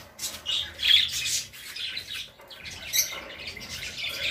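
Pet budgerigars squawk and chatter in a busy run of harsh, bright calls, loud and close with no talk over them, the bursts peaking around the one- and three-second marks.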